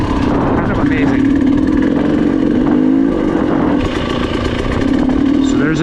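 A motorcycle engine drones steadily while climbing a hill in third gear on a hill-climb and turn training track, with slight shifts in pitch as the throttle changes. The engine is close and loud, and a voice talks over it.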